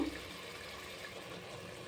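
Water pours steadily into a pan of spiced chicken kurma for a couple of seconds, a soft continuous splashing close by with no talking.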